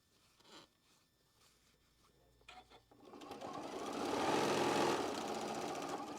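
Sewing machine running along quilt block seams, starting quietly with faint handling sounds, then whirring steadily and growing louder for the last few seconds.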